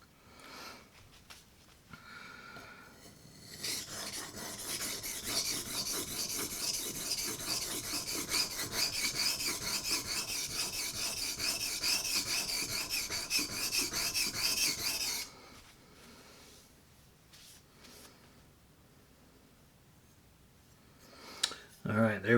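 A knife edge is stroked repeatedly against a sharpening surface to raise and break off a burr, producing a steady run of close, rasping scrapes that goes on for about twelve seconds, then stops. A few quieter handling sounds follow.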